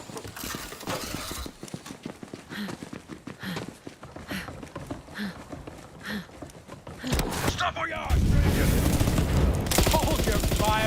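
Rapid gunfire in the video game Borderlands 3: a rattling, fusillade-like stream of shots mixed with voices, building to a loud, dense roar of firing near the end.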